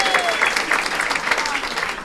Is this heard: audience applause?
yes